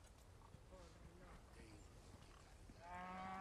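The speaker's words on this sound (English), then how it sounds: "Shut the fuck up, cow." Cow in the Resident Evil 4 remake giving a low moo, faint and distant at first, then louder and clearer toward the end, over quiet game ambience.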